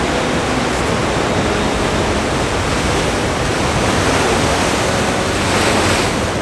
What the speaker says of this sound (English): We ate our pizzas with the waves crashing around us.